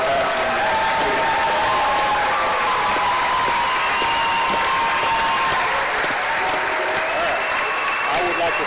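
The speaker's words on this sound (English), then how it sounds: "please give a round of applause for your 2022 Pottsville Apache students" Crowd applause for the 2022 Pottsville Apache students at a 4A conference matchup, sustained and fairly loud throughout, with some cheering and voices mixed into the clapping.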